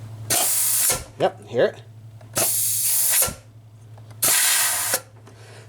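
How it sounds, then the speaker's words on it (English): Compressed air blown into a truck turbocharger wastegate actuator: three loud, sustained hissing bursts about a second long each, separated by pauses. A brief spoken remark and faint clicks fall between them, over a low steady hum. "by pushing air pressure into here, we should hear the wastegate move and click"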